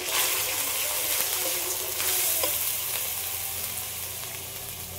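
Ground chilli, turmeric, Kashmiri chilli and cumin fry in hot oil for mutton biryani, a loud, dense, steady sizzle close up with faint stirring scrapes.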